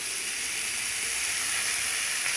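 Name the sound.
onions frying in oil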